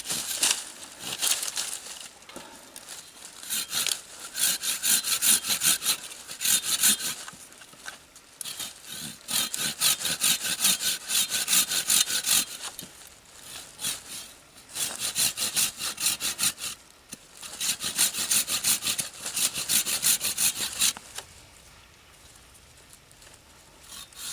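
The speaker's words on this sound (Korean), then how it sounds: "이렇게 기본적인 톱질 좀 해주고요." A folding pruning saw cutting through thick wood, with bursts of rapid rhythmic rasping strokes separated by short pauses and fading at the end.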